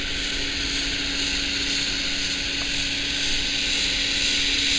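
Home gas furnace air blower running, a steady, loud, droning whoosh with a constant hum underneath, unchanging throughout.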